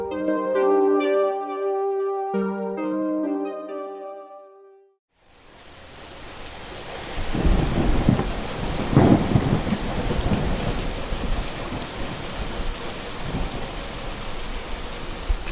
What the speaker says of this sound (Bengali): একেই মুষলধারে বৃষ্টি পড়ে চলেছে